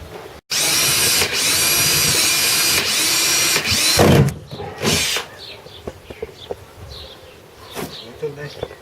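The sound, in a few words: drilling holes with Bosch hole saws in a kayak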